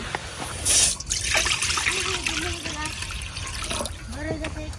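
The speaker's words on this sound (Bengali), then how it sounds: "এখন কড়াই দিয়ে দিতেছি পানি" Water pours into a wok in a home kitchen while rice flour is being toasted for dudh puli pitha, a trickling splash near the start, followed by someone speaking over steady background noise.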